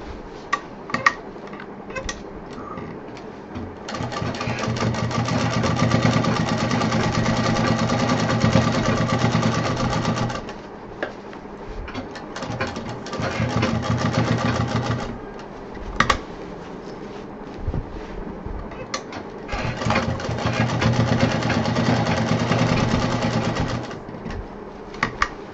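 An electric sewing machine stitching a backpack runs in long steady whirring bursts with a rapid needle chatter, stopping and restarting several times with short quiet pauses between runs.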